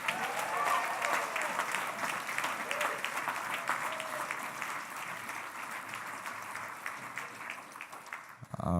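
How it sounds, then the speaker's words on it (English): A congregation at an interfaith Shabbat service applauds young people with steady, sustained clapping from a large room that carries on for several seconds and fades slightly toward the end. "I need you to clap your hands and really give it up for them."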